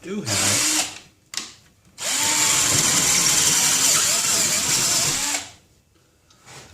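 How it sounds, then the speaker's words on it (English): A cordless drill with a dying battery whirs loudly in two bursts, a short spin followed by a longer steady run of several seconds, then winds down. "I hate these battery drills"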